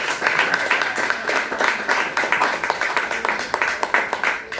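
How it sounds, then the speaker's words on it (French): A church congregation at an evangelistic service claps together in a steady, fairly quick rhythm, each clap sharp and distinct, continuing evenly for several seconds at moderate loudness. "Applaudissez le Seigneur."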